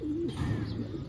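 A Teddy bloodline pigeon gives a short, soft coo, faint and close, lasting about a second.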